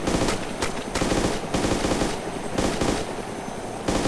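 Sustained machine gun fire from a helicopter in the video game DayZ, loud, near and continuous, in rapid bursts broken by a few short gaps over a few seconds.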